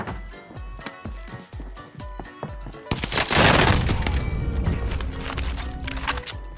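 A PPSh submachine gun fires in Warzone with rapid, evenly spaced shots at close range, then breaks into a loud, dense burst of continuous fire.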